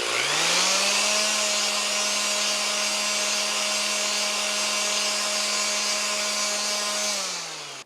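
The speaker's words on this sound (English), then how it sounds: "I have both a sander and a jigsaw. Let's see what happens if I turn both of these on at the same time." A sander and a jigsaw, both powered by a Bluetti EB3A portable power station, whir together at a steady high-pitched tone for about seven seconds, close and loud, then wind down at the end.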